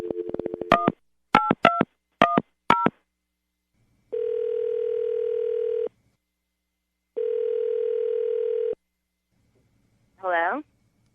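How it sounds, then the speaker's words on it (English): Telephone keypad tones as a phone call is placed: several quick DTMF beeps, then two long, steady ringback tones with a pause between, ending in a short warbling burst as the line connects. "We're going to call her right now, get her on the phone"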